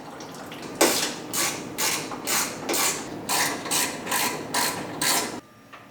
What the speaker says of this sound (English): Now we can tighten it down.